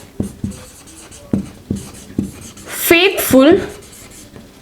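A teacher writes on a board during a basic English lesson, producing a series of sharp, evenly spaced taps and strokes close by, followed by someone speaking.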